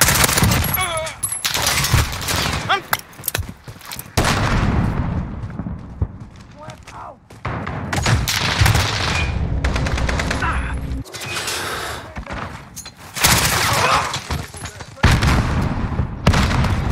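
Dense, loud gunfire fills Call of Duty Modern Warfare Team Deathmatch play with an AS Val and 725, with rapid bursts, booming shots and explosions nearly nonstop, while game voice lines call out over the battle.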